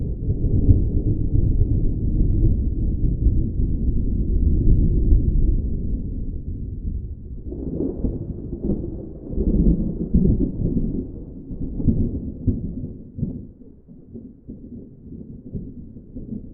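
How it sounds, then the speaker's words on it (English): Low rumbling thunder rolls in the distance during a storm over a farm in southern France, a long continuous grumble that swells and fades with deeper distant booms, with no talking. "lightning flashing and thunder echoing in the distance"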